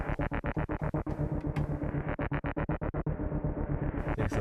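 A synthesizer's basic patch plays a rapid series of loud, pulsing distorted notes with pitch bends, choppy and rhythmic, with brief gaps and swells of bright noise, alone without talk.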